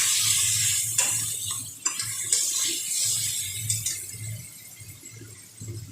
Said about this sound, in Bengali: সামান্য একটুখানি জল দেবো যাতে মশলাটা পুড়ে না যায়